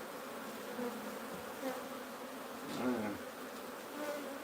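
A swarm of wild bees hums steadily around their hive as it is moved, a continuous close buzz with individual insects swelling louder as they pass near.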